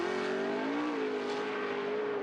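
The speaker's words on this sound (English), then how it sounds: "A little kickstart there off the line, and you can see his 2018 Chevy bouncing around." A 2018 Chevy off-road racing truck launches off the start line at a race, its engine holding a loud, sustained droning tone with a brief dip in pitch before steadying.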